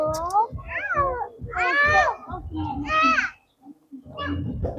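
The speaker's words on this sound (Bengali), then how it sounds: "ওই যে মিয়াও, আসছে" A cat meows repeatedly in rising, wavering calls at close range, with a voice and other talk mixed in between the cries.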